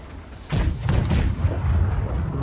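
Ship cannons boom in a naval battle in Blackwake, a sharp loud blast followed by a couple more rapid shots and a rumbling low tail, with no talk over it.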